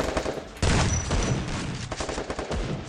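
Rapid gunfire from a fast-firing weapon in a video game, a loud dense burst that keeps going with little break.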